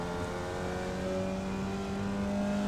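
A Formula Vee race car engine at Oulton Park in iRacing drones steadily at high revs, a close, continuous buzzing tone held without a break.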